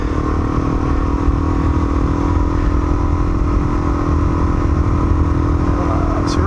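A motorcycle rides along hard-packed beach sand on a Cape York adventure trip, its engine a loud, steady, close drone that holds without a break from start to finish.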